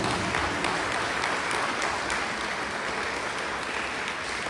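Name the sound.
applause in church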